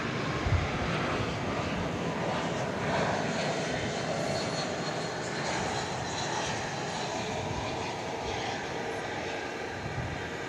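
A jet airliner departs DFW airport at night, its broad engine roar steady and fairly distant throughout, with no voices over it.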